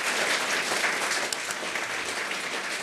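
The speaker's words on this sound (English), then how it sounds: "So can we just give a round of applause to Llewellyn?" Steady, dense applause from an evening live-event audience honouring Llewellyn, a continuous wash of many hands clapping at even loudness throughout.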